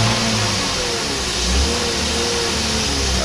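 BMW E36 325i engine warming up after a radiator replacement, revving gently above idle in a steady, loud, close mid-range drone with slight swells in pitch.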